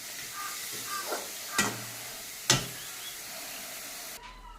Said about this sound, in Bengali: আমার লাল শাকটা কিন্তু ভাজা হয়ে গেছে